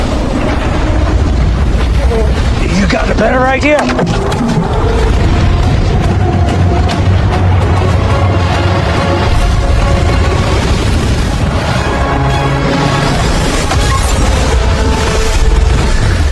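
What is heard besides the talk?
dynamite explosion and avalanche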